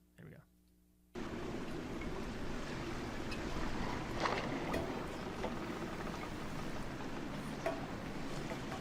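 A boat from the Jaws film runs at sea, a steady rushing engine-and-water wash that starts abruptly and holds at an even level, with occasional spray bursts and faint voices beneath.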